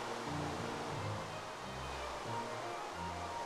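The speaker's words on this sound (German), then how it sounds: "Könnte da aber auch schon mal das Wasser in den Graben schütten." Steady rushing water noise from water poured into a ditch in Minecraft, a continuous wash with low gurgling swells, close and moderately loud throughout.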